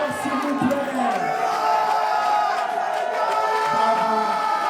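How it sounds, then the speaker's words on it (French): A lively crowd at a French drag show finale cheers and shouts with whoops over a dense, steady roar of audience noise, close and loud throughout. "on les applaudit bien fort, s'il vous plaît"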